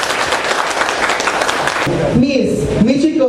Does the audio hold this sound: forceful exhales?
no